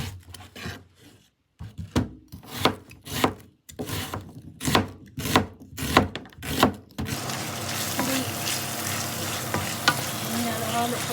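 Baguio beans frying in a pan are stirred with about a dozen rhythmic scraping strokes, close and loud, and then the stirring stops and a dense, even sizzle fills the rest, with no talk.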